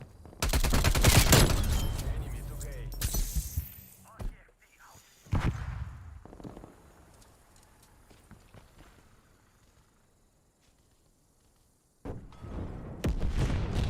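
Stoner machine gun fire in an online shooter game, loud rapid bursts at the start, then scattered shots and footsteps, quiet stretches and renewed gunfire at the end.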